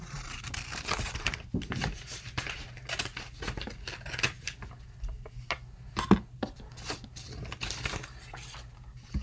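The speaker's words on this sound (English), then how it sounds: "Here's my scissors." Paper is cut with scissors for a handmade Thanksgiving journal: a run of crisp snips and rustling crinkles, close and uneven in rhythm, with paper handling between cuts and no talking.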